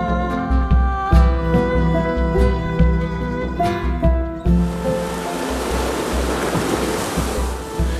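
Mediterranean sea waves in Hatay, Turkey, rolling in as broad, steady surf noise that takes over in the second half, following a stretch dominated by sustained musical tones; no voices.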